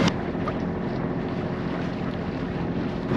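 A sailboat motoring slowly on its engine into a crowded anchorage off the island of Elba gives a steady, continuous low rumble, mixed with wind buffeting the microphone and water noise, and no voices are heard.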